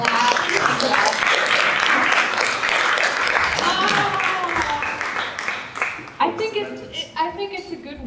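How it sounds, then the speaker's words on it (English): Conference audience at a games event in 2024 breaks into dense applause that fills the room for about six seconds, then thins into scattered claps as voices come through. "Yeah, you can clap. You can clap."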